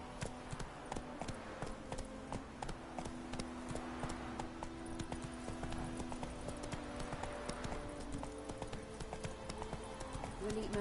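Roach the horse gallops in The Witcher III, her hooves beating a quick, steady clip-clop rhythm that runs throughout, close and clear over a busy background of game ambience.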